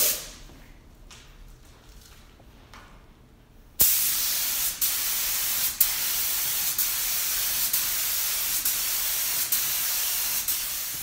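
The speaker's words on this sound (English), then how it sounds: "So I have my air pressure at the regulator, at my quick connect from the air compressor set at around 90 PSI" Air compressor-fed spray gun laying down a paint finish at around 90 PSI: after a quiet stretch, a loud steady hiss starts abruptly and continues alone, broken by brief periodic trigger pulses.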